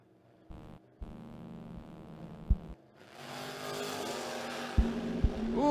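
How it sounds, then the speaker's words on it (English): A '65 Chevy and other drag race cars launching at a drag strip, engines rising to a loud, sustained roar with sharp bangs and building revs as they pull away. "good clean drag race"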